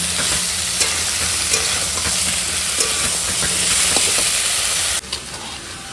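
Papaya stalks, potato and tomato sautéing with ginger and garlic in a pan, a steady broadband sizzle with scraping stir strokes throughout, easing somewhat near the end.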